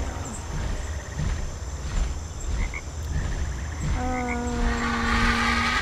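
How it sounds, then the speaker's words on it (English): Frogs croaking in a swamp biome in the video game PixARK, a steady chorus of ribbits over a constant ambient bed, swelling into louder, closer croaks near the end, with no speech. "Frogs. I need frogs."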